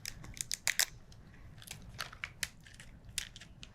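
Kitchen shears snip through soft shellfish cartilage, a series of sharp crisp crunching cuts at close range, irregularly spaced with quiet gaps between.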